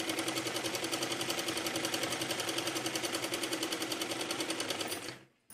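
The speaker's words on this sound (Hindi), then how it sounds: "सीधा करके दबाने वाली सिलाई लगा लेंगे।" A sewing machine runs continuously while stitching the side seam of a blouse, a fast even whirring rattle held close and loud, then stopping abruptly near the end.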